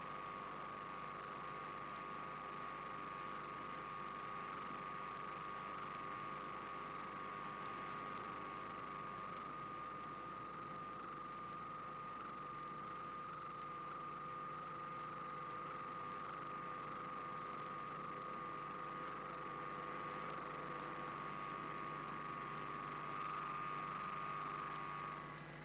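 Bomber aircraft engines drone in a steady, unbroken hum as the plane moves off to wait for takeoff, a constant mid-distance roar with a sustained tonal whine and no talking.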